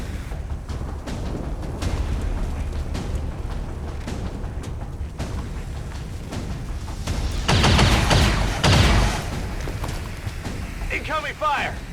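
Heavy incoming gunfire in the game XCOM 2, a dense run of rapid shots and booms that swells into loud bursts near the end, with talk over it.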